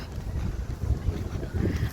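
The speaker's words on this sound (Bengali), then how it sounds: "আর বাতাসও দিতেছে।" Wind blows steadily outdoors near water, with a constant rumbling buffet of gusts and no voices.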